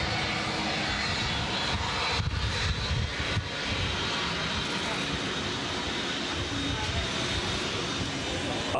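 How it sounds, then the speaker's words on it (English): Jet engine fitted to the back of an old VW camper, running at a track event as a loud, continuous roaring whoosh that holds steady throughout, with people talking beneath it. "look how big that jet engine is on the back as well"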